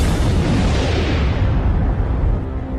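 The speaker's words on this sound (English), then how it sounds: "bounce outward in a tremendous explosion. The explosion is a supernova" Supernova explosion effect in a space documentary, a loud, continuous deep roaring rumble that sustains across the whole stretch and slowly loses its upper hiss, heard alone without voices.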